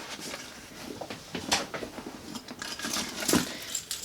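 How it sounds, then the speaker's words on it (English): Car keys for a Kia Soul jingle on a keychain as they are handled, giving soft metallic clinks and a few brighter jangles. The sounds are close and fairly quiet, with no talking. "Got my keys."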